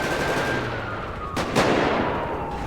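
Gunfire in a police roleplay video game: a quick pair of sharp shots cracks out over a steady background hiss and hum.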